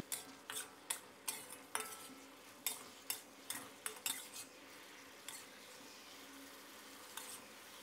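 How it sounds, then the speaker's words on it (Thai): Cauliflower and pork belly stir-fried with oyster sauce in a pan, a metal utensil scraping and clanking in a steady series of sharp strikes over a soft background sizzle, no voices. "แล้วก็ให้เราผัดคลุกเคล้าให้เข้ากันนะครับ"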